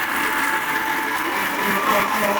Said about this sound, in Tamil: இதை இப்போ நான் மிக்சியில போட்டு அரைக்க போறேன்.